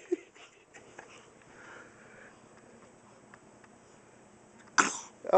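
A single sharp, fairly loud sneeze or sniff bursts out near the end, close by, after quiet indoor background with a few small scuffs while someone fusses over a cat.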